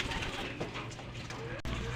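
Soft bird calls, cooing like a dove, sound close by at a bird loft amid a steady wash of outdoor noise, with voices faintly present in the background.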